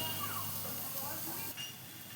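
Chana dal cooked with papaya fries in a pan, giving a soft, continuous hissing sizzle at close range that steadies through the short moment, with a slight shift partway as the pan is handled.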